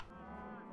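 Cows lowing in Minecraft, one brief low sustained moo heard alone, fairly quiet.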